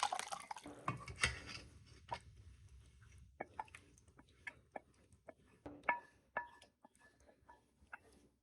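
Yogurt kadhi is poured back into a cooking pot, giving a brief splashy rush of liquid followed by a scatter of soft, sparse drips and taps, quiet and close with no talking.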